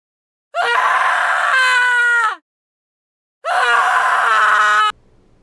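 Two long, loud screams separated by a short silence, each sustained for a second or two with a strained, wailing quality.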